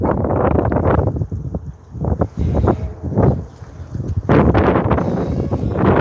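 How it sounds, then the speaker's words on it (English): Strong wind buffets the microphone in heavy, roaring gusts that surge and ease, with a loud blustery rush filling the whole clip. "When it gets windy, oh my God!"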